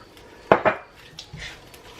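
Peas tipped into a cooking pot make two quick, close clattering rattles in quick succession, followed by faint kitchen sounds.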